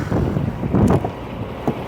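Strong gusting wind buffeting an outdoor microphone at a truck stop on a squally winter night, a loud, steady roar with sharper blasts.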